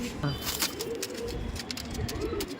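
Pigeons coo in a loft or standing display area, soft repeated low calls mixed with bird chatter while people talk nearby throughout.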